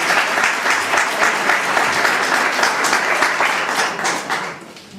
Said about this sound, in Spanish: Así que un fuerte aplauso para Enrique.